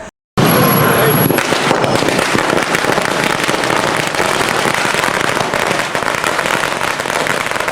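A long string of firecrackers bursts at a street celebration of an election win, a dense, loud, continuous crackle of sharp pops with people talking and shouting underneath.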